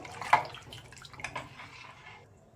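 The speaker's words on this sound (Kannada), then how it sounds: "ಇದಕ್ಕೆ ಇನ್ನೂ ನೀರು ಸೇರಿಸ್ಬೇಕು" Water splashes into a pot of sambar, a quick gush followed by a fading trickle, close by with no talking.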